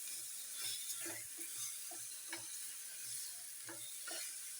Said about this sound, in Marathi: थोडं हलवायचं तर ते जास्त रगडा झालेला पण नाही छान वाटत हलकंच हलवायचं